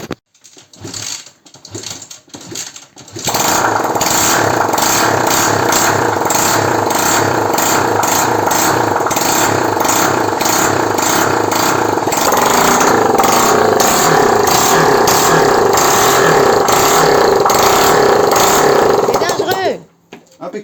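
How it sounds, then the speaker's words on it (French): A Honda 125 CB Twin motorcycle with no exhaust fitted cranks a few times, then catches and runs loud and raw, a close steady rapid popping idle with some blips, before cutting off near the end. Brief speech is heard at the start. "Ah par contre ça va faire du bruit, il manque un pot d'échappement"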